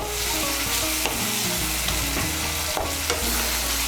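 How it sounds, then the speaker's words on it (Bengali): Salt being stirred into Bengali cauliflower curry frying in a pan: a steady, dense sizzle with continuous scraping and stirring, loud and close, with no voices. "নুনটাকে ভালো করে মিশিয়ে নেব।"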